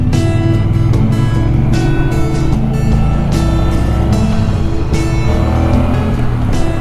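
A 2018 Triumph Bonneville's parallel twin engine drones loudly while riding, a deep steady throb with shifting revs and a rush of wind noise, close and continuous.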